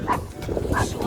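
A couple of dogs bark and yip nearby in short bursts, with a steady outdoor background hum, in Pavlohrad.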